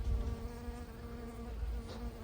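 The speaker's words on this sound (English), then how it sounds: "I haven't been chopping it back because the bees love it." Bees buzz steadily around a large, overgrown basil plant in a home garden, a faint, continuous droning hum close by, with no talking.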